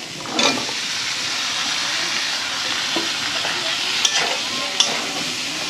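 Vegetable curry of mixed village vegetables cooks in a pan with a steady hiss and sizzle, broken by a few scraping stirs and soft clinks of a utensil, with no talking.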